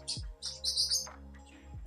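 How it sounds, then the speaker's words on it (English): A pet bird gives a few short, bright chirps near an indoor microphone, and then it falls quiet, with a low steady hum beneath. "Faraday, what's up, bird?"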